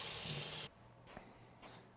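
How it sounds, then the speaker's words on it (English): Kitchen tap water running hard over a knife being rinsed, a loud bright gush that cuts off abruptly partway through, followed by faint clinks and drips in a quiet room. "Rinse off my knife."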